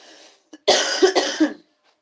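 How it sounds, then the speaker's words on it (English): A short run of close-up coughs, two rough bursts back to back, with quiet before and after. "excuse me for any and all coughs."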